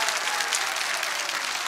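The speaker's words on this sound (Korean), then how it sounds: "예. 박수" Audience applause at a Korean lecture on presidential martial law, a steady dense wash of clapping from a crowd, fairly even and continuous throughout with no speech over it.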